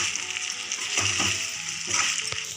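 Okra masala fries and sizzles steadily in a pan with salt as a spoon stirs through it, giving a close, continuous crackle with a few scraping knocks and no talking.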